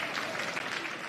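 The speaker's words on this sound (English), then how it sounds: "I'll take the applause." Short burst of audience applause at the Afreximbank annual meetings in Abuja, Nigeria, a dense even clatter of many hands from a large hall crowd, moderately loud and without pause.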